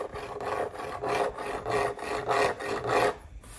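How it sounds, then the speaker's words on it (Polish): A fingernail scrapes back and forth across the rough textured housing of a black Thermomix, making six or seven close, rasping strokes in a steady rhythm. "Zrobimy teraz test paznokcia, żebyście zobaczyli, jak ta faktura się różni."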